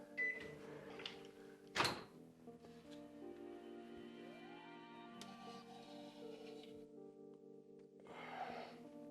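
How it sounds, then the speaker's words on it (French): Microwave oven heating a liquid, a low steady hum with layered tonal drones, faint and close, punctuated by a sharp click or knock and a few soft handling taps and rustles. "je vais le mettre au micro-ondes"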